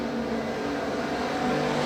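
Race cars roar around the track at Rose Bowl Speedway, a loud dense engine drone with pulsing harmonics over a short stretch.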